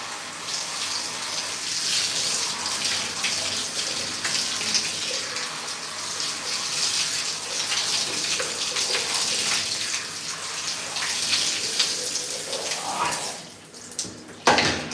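Running tap water rinsing clay wax out of hair, a steady close gush and splash that carries on without a break and eases off near the end.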